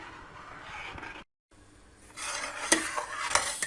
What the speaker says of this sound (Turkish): Kıvamını alana kadar da karıştırmaya devam edeceğiz.